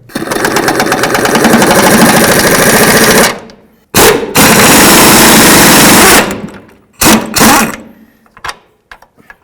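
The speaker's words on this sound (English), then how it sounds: "Let's use an 18mm wrench on the nut and a swivel socket up here." An impact tool with a swivel socket loosens the front shock absorber nut on a 1992–2000 Chevy Tahoe, a loud, close rapid hammering burr in long bursts that stop abruptly, then two short final rattles.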